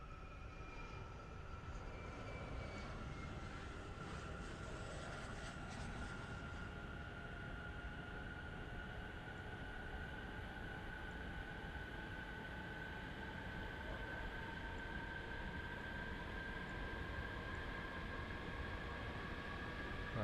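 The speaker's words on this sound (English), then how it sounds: "I'm waiting for the engine to light." F-14 Tomcat jet engine spooling up during a start in a flight simulator game, a steady broadband roar with rising whine tones that climb slowly and hold, continuous and fairly loud with no talking.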